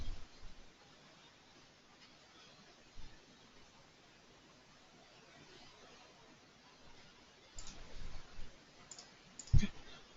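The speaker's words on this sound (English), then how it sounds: "Click on OK." A computer mouse clicks while filters are set in SQL query software, a few faint, sparse clicks over low hiss, bunching into short bursts near the end, no talking.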